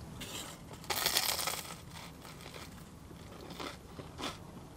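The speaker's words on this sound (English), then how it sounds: "You bite into it, you get that really crispy, crunchy baguette." Crunchy bites into a crispy Greggs festive baguette filled with bacon, sausage, cranberry sauce and stuffing, a loud close crackling crunch followed by fainter chewing crunches.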